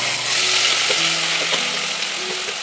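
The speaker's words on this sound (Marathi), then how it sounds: "तेल खूप जास्त तापलेलं आहे. या सगळ्या भाज्या आता या ऑइलमध्ये हे करून घ्यायचं आहे." Chopped vegetables for pav bhaji fry in very hot oil, giving a loud, steady hiss with faint scraping and stirring noises underneath and no talk.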